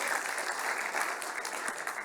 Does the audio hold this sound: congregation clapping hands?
yes